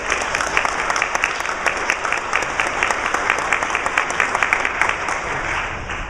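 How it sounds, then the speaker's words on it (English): Sustained applause from a large audience at a Girl Scouts annual meeting, a dense steady patter of many hands clapping at once, with no voices breaking through. "let's give them a round of applause"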